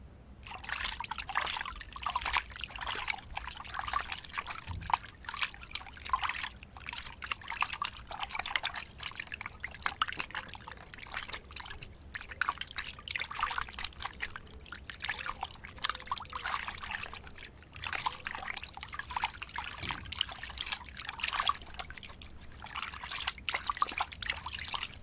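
Water trickles and pours steadily from a tap as dishes are rinsed, a continuous moderate stream running the whole time with small splashy variations and no talk over it.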